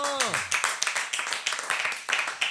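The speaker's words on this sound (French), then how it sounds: "Pour une fois qu'on l'applaudit." A studio audience claps and applauds on a French comedy panel show, a dense patter of many hands that carries on steadily while a voice speaks over the start.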